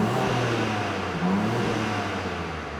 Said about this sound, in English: I'll put it onto quiet mode.